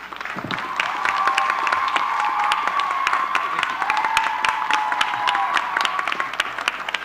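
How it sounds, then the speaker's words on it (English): An audience at a 2012 Martin Luther King Jr. vigil applauds steadily, with sharp claps close by and a long whistle and scattered cheers running through the crowd noise. "Let's give a warm round of applause for the Executive Director of the Arkansas Dr. Martin Luther King Jr. Commission, Mr. Deshaun Scarborough."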